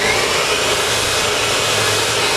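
A blow dryer runs steadily and fairly loud while a round brush styles a man's hair at the front for volume, one unbroken airy whoosh with no talking.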